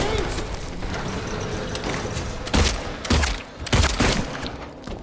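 Video game gunfire in rapid, dense bursts, loud and close, with a few heavier volleys near the end and a voice faintly underneath.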